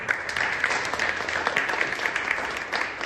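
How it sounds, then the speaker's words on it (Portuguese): A church congregation applauds steadily, dense clapping filling the room at an even level throughout with no break. "Aplauda o Senhor Jesus."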